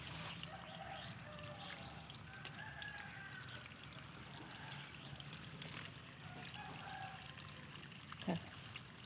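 Water runs into a pond on a fruit-growing farm as a faint, steady trickling pour, with roosters crowing now and then in the background.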